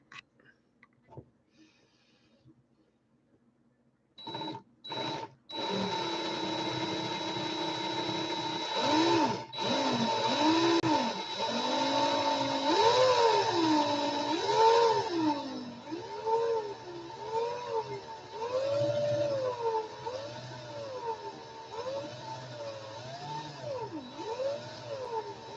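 A drill spins to twist wire for a coil, giving a steady whirring motor whine that wavers in pitch as it speeds and slows, after a few sharp clicks at the start, moderately loud and without talk.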